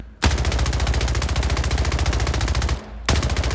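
SMG firing in the arena shooter Splitgate, a long, rapid, steady burst of close, loud shots, a brief pause near 2.8 seconds, then another burst.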